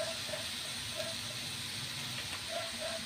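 Leftover cooked rice with soy sauce sizzling in a pan, a continuous, even hiss with faint intermittent clinks, no voices.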